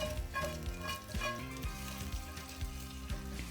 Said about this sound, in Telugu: ఇప్పుడు ఈ తాలింపుని మొత్తం షిఫ్ట్ చేసేసుకోవాలి ఇలా